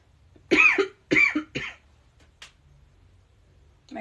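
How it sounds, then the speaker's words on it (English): Three loud, close coughs come in quick succession, from a person working on an alcohol-ink watercolor tumbler, followed by a faint click and a brief rustle. "My cough is still here, by the way."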